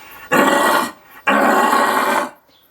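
A person imitating a red deer stag's roar with their voice, giving two loud, grunty, close-up bellows, each lasting over half a second, separated by a short pause.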